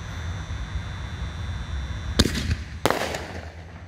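Aerial firework shell, Target Engaged by Wild Dragon Fireworks, at an outdoor demo: two sharp loud bursts about half a second apart over a low rumbling background, followed by crackling.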